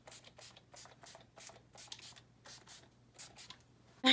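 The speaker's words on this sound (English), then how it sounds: "Set this all in with the NYX Dewy Finish Spray" NYX Dewy Finish setting spray misted over a face of makeup in a series of short, soft hissing bursts at a steady rhythm, fairly close, with no talking.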